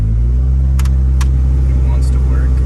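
Honda car accelerating from inside the cabin, a loud continuous engine drone with a low rumble throughout, with brief knocks and faint voices over it.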